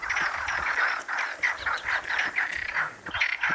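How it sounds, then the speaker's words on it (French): Frogs croak in a busy, overlapping chorus of short rasping calls on an island in the Azores, steady and fairly close, with no talking over them. "Grenouille!"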